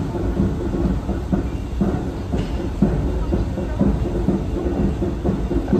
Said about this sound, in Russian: Это кадеты где-то идут с барабанами.